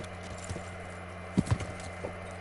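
Horse hoofbeats from the video game Kingdom Come: Deliverance sound as a couple of soft, close clip-clops over a low, steady ambient hum.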